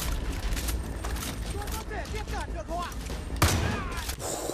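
Rapid bursts of gunfire in Far Cry 5 Hours of Darkness, clustered cracks under excited voices, followed by a louder single boom near the end.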